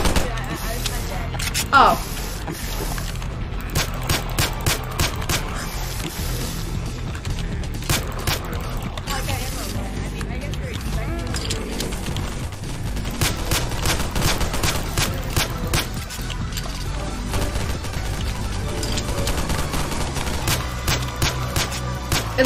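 Rapid video game gunfire on a Garry's Mod horror map, sharp repeated shots in quick bursts throughout, with players talking over the steady shooting.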